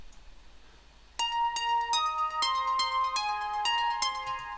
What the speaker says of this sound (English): the harp synth lead, which sounds like this